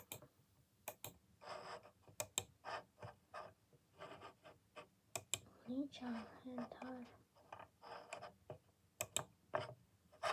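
A computer mouse clicks repeatedly at an irregular pace, crisp sharp ticks close to the microphone, interleaved with quiet, breathy speech.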